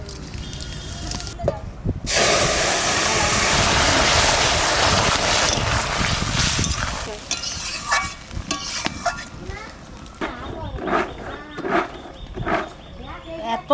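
Cumin seeds alone hit hot oil for tempering in a home kitchen, a loud, close burst of crackling sizzle that fades after a few seconds into quieter stirring and scraping with occasional clinks.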